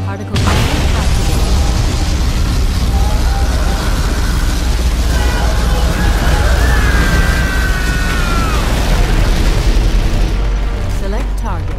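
A particle cannon superweapon fires in Command & Conquer Generals, a loud sustained roaring blast with a rising whine, rumbling continuously for about ten seconds.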